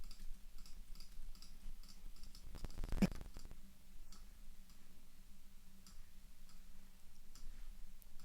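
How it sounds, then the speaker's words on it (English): Mouse clicks and delete key presses on a computer keyboard make sparse, faint ticks over a steady low hum, with one louder thump near the middle and no talk. "You can just click on them and press the delete key."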